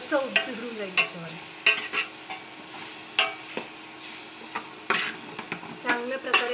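Ground masala for soybean biryani is sautéed in a pan over low heat, with a soft sizzle and repeated scraping, tapping stirs of a spoon against the pan, while a voice talks intermittently.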